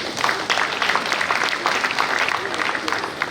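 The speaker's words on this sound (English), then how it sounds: "Please let's give a round of applause again." An audience at a builders' conference in Lagos gives a brief round of applause, a dense patter of clapping with voices mixed in.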